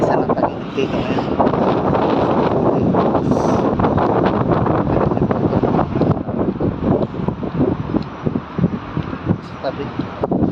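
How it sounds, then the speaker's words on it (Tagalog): Loud, continuous wind roaring and buffeting across the microphone throughout in Abu Dhabi, gusting in bursts with faint voices buried underneath. "Pero malakas ang hangin."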